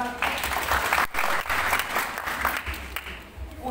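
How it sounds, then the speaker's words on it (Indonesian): A church congregation at a joint Christmas service applauds the children, steady dense clapping that carries on for several seconds with crowd murmur beneath. "Kasih tepuk tangan buat anak-anak"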